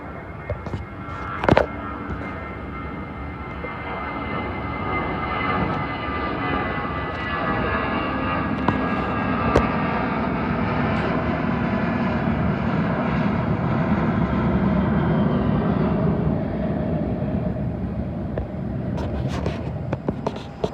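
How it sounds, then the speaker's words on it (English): British Airways Airbus A320 departing London Heathrow for Manchester, a building jet engine rumble with whining tones that rises and sustains for much of the stretch, with a few sharp clicks and knocks nearby. "Next up, a Manchester-bound British Airways Airbus A320."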